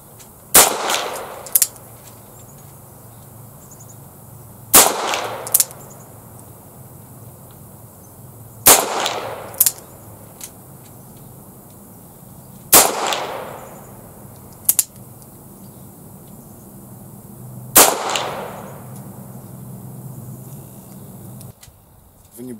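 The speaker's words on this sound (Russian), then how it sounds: "сначала, как стреляет наган" A loaded Nagant revolver fired single action, five sharp shots spaced about four seconds apart, each a loud crack with a ringing tail, with no speech.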